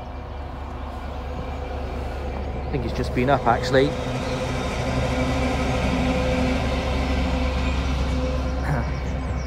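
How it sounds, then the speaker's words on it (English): A passing train rumbles steadily nearby a fishing pond, a low continuous roar with a brief rising squeal, while someone speaks briefly over it. "I'm just going to wait for this train to go by."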